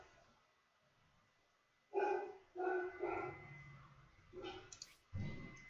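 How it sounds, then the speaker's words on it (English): A dog barks several times in short loud bursts, nearby and indoors, with no talk over it. "Oh, that's my dog."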